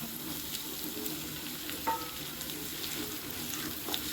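A soft, continuous sizzle of onions sautéing in a pan, with faint scraping from occasional stirring, fairly quiet and close.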